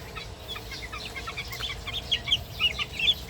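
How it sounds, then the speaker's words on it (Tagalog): A cluster of native chicken chicks peeps and chirps continuously nearby, their high cheeping calls overlapping over a soft outdoor background. "Yung isang kumpol na sisiw na yan. Yan ang aking mga native."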